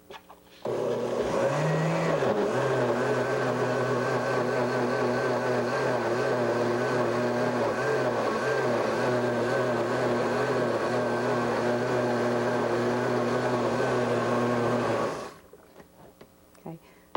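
Blender beating paper cards with water into pulp, a loud, steady whirring motor drone with a brief dip in pitch near the start, running about fourteen seconds before spinning down.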